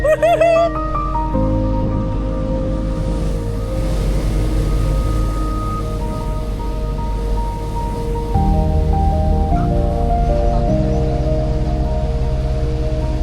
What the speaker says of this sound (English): About to get some waves.